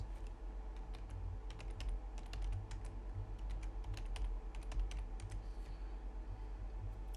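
Steady clicking keystrokes on a computer keyboard as a password is typed, a close, continuous run of taps over a low background hum, with no talking.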